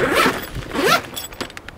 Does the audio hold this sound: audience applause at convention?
no